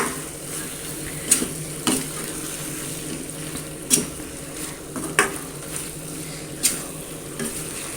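Chicken chukka gravy with onions being stirred in a pan, a soft continuous sizzle broken by several sharp spoon scrapes and clinks against the pan at irregular intervals.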